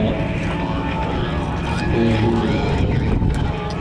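Rotor and engine of a Mi-24 Hind helicopter at an airshow, heard as a continuous loud whine and throb with a voice speaking over it.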